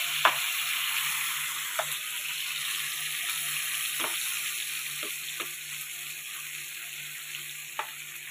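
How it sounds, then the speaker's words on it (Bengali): Tangra fish, cleaned and rubbed with salt and turmeric, fry in a pan with a steady, close sizzle of hot oil, broken by a few sharp pops and spits, with no talking. "এখন এইগুলো আমি ভেজে নেব একে একে"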